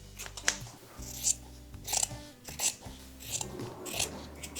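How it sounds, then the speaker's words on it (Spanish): Scissors cutting off excess fabric strap on a large crossbody bum bag being sewn, several crisp close snips in an irregular rhythm over a low steady background hum, no talk. "Ahora vamos a cortar el exceso."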